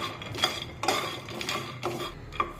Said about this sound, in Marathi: शेंगदाणे सुद्धा उलटण्याने असे सतत हलवत राहायचं म्हणजे ते सगळीकडून एकसारखे भाजले जातात